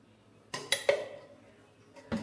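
A spoon and pan clink a few times, sharp taps close by, as ghee is spooned into an Amway pan, followed by a faint tap near the end.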